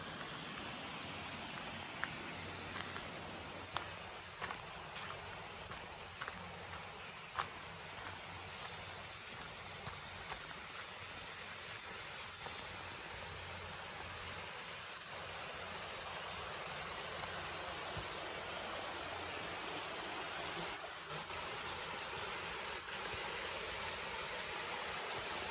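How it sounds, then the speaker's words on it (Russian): Steady broadband rush of a spring-fed mountain stream flowing into a canyon in the Blue Mountains near Govett Leap lookout, continuous and fairly close, with no voices. "И потекла родниковая водица в ущелье."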